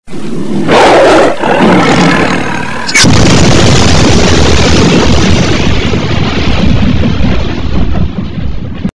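In an animated story, a huge dragon roar bursts out with a heavy rumbling blast, loud and close, swelling after a short lead-in and holding for several seconds before cutting off.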